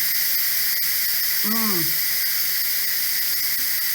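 An Instant Pot vents steam after cooking carrots, giving a continuous loud hiss throughout, with a brief tonal squeak in the middle.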